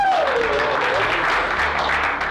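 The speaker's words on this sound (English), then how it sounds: "round of applause for the dev team." Players and staff of an Australian rules football club give the development team a round of applause, loud, close and continuous clapping that begins over a fading voice and tapers slightly at the end.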